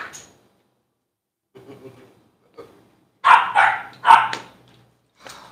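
Dogs indoors let out a few soft grumbles, then a quick run of three or four loud, close barks with a fainter bark afterward and quiet gaps between.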